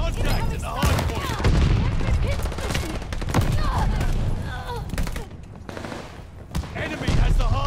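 Rapid bursts of rifle and machine-gun fire crackle through a Call of Duty: Vanguard hardpoint match, dense and loud throughout, with voiced callouts running underneath.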